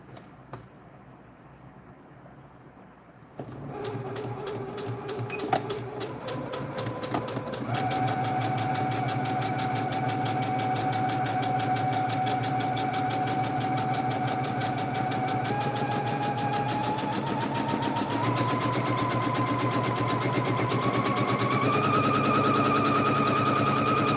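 A sewing machine stitches a bandana bag in a long, continuous steady whir, starting quietly and becoming louder and denser after a few seconds, running without talk.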